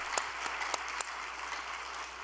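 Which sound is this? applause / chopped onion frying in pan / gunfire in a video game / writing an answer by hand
applause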